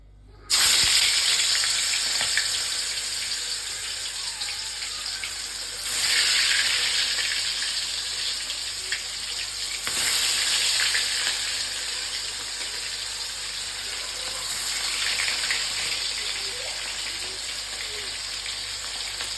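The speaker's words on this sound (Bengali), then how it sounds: "এবার মাছগুলো আমি একে একে ভেজে নেব।" Pieces of shankar fish (skate) fry in hot oil, producing a sustained bright sizzle that swells louder a few times as more pieces go in, with no talk over it.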